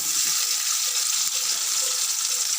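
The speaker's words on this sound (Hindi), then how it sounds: "ऑयल गर्म होने तक हम इसमें प्याज डालते हैं।" Chopped onions sizzle steadily in hot oil in a pan for a chicken and potato shorba, a continuous close hiss of frying with no talking.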